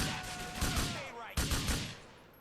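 Several sharp bursts of assault rifle fire ring out in Grand Theft Auto IV, followed by a brief pause and then another burst, loud and close with fading echo.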